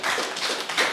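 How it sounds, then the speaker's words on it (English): A crowd at a ceremony honouring Gambian Olympic athletes breaks into dense, steady applause, many hands clapping together at close range with no voices. "Can we have a round of applause?"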